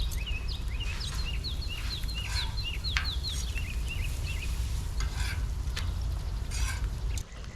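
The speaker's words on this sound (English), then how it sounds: "I'm gonna do a quick little dunk in oil and just throw them down onto the griddle" Oil-dunked fish sizzles on a griddle in a steady frying hiss, with a few clatters of handling and birds chirping repeatedly in the background.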